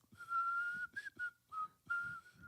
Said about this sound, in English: We're whistling here.